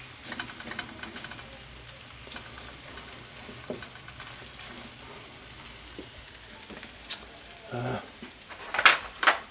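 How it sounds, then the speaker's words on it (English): Bacon sizzles in a hot pan with a soft, steady hiss. A few brief clatters sound near the end. "Just try and cook me some of that bacon juice."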